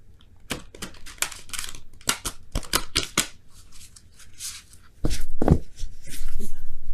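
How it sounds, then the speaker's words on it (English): Large oracle cards being shuffled by hand in a tarot reading, crisp papery riffles and slaps in several short bursts, close and fairly loud, with a brief voice sound near the end. "one more shuffle that way"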